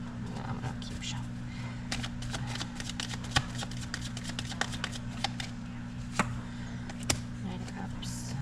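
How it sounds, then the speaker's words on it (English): Tarot cards being shuffled in quick repeated riffles, close and steady, over a low constant hum, with a few sharper snaps standing out. "I'm gonna keep shuffling."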